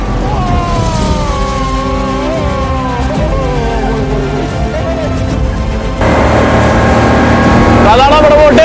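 Speedboat engine on Alappuzha backwaters, a steady loud drone with shifting pitch that grows fuller and louder near the end, with a voice talking over it.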